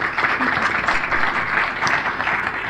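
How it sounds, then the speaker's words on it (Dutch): A studio audience applauds a guest on a talk show, steady dense clapping throughout, close and fairly loud with no pauses. "Geef een hartelijk applaus."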